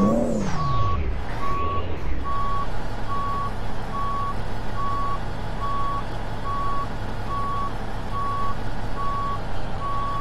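A tractor trailer truck in a video game backs up with a steady, evenly spaced reversing beep that repeats throughout over a constant low engine rumble.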